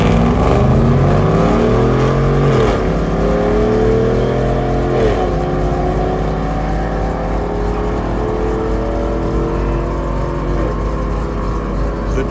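A Ford Lightning pickup accelerates hard down a drag strip at night, its engine loud and close as it climbs through several gear changes in a long, continuous run.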